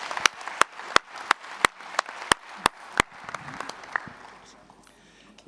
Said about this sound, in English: Malaika team, you deserve another applause